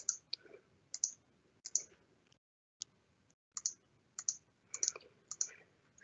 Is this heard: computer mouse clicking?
yes